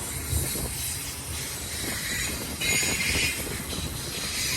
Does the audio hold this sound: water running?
no